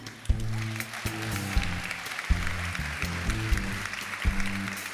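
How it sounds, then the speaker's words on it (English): Pageant audience applause at a Miss Virginia Volunteer finals show, moderately faint clapping running steadily beneath sustained musical chords that swell and change repeatedly. "Please, another round of applause for him."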